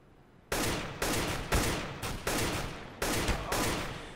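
Gunfire in a shooter video game: a rapid series of about seven sharp, loud shots with roughly half-second spacing, each ringing briefly into the next, and no talking.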